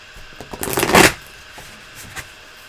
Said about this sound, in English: You shuffle first.